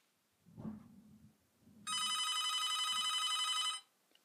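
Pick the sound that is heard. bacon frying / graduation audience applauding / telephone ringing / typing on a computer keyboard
telephone ringing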